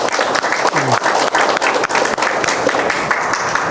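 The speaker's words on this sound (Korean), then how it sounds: "박수 한번 해주세요." An audience at a Confucian classics lecture applauds an award recipient, dense continuous clapping from many hands, loud and near, with a short voice sound briefly mixed in.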